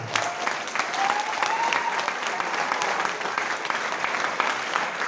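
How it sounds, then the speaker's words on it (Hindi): Loud, steady applause from a large audience at a celebration event in Agra, dense clapping filling the whole stretch without a break, with faint voices mixed in. "एक उनके लिए जोरदार तालियां दो।"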